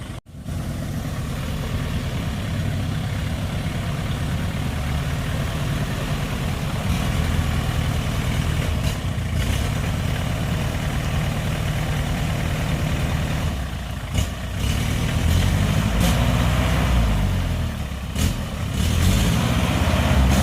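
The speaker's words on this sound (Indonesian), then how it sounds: "Nampaknya kesulitan ya mobil melalui kubangan lumpur itu." A car engine labours as it drives through a mud puddle on swampy oil palm plantation ground, a loud, close, continuous low rumble with surging revs toward the end and no talk.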